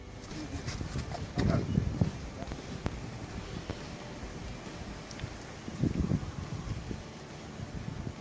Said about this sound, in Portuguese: Ventando bastante, agora esfriou.